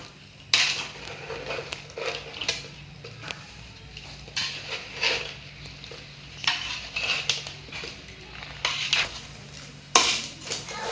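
Cooled oil goes into a batch of Telangana-style mango pickle while it is mixed by hand, producing irregular clinks, scrapes and wet thuds against the container at moderate volume.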